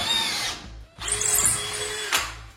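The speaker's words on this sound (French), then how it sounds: "On va se percer celui-là." A power drill bores into a house wall to fix a balustrade during renovation of an abandoned house. It makes three loud, close whirring bursts with brief pauses between them, and the motor pitch shifts as it bites into the wall.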